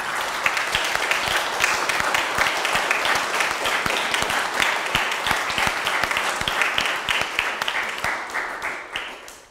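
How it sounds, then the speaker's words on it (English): An audience claps for volunteers at a church-style gathering, a sustained, fairly loud round of applause with crisp individual hand claps throughout, trailing off at the very end. "For you and for everyone that has volunteered this year in assisting with teaching and program leadership, let's have a round of applause."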